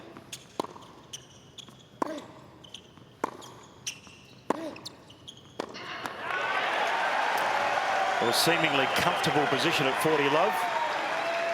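Tennis ball strikes pop in a steady rally at the Australian Open, then the crowd breaks into loud, sustained applause and cheering while a commentator speaks.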